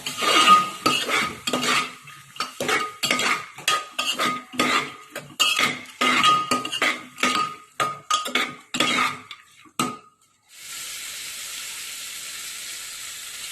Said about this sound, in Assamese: পাচলিখিনিৰ লগত এই তিয়াই থোৱা দালিখিনি দি দিব। গোটেইখিনি ভালকৈ লৰাব।